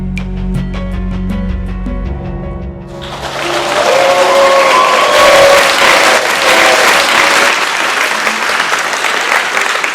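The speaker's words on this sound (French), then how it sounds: "le but du jeu, c'est d'applaudir, faire un maximum de bruit" A crowd at a digital-technology café event bursts into loud, sustained applause and cheering that keeps going, following a few seconds of music with tonal notes.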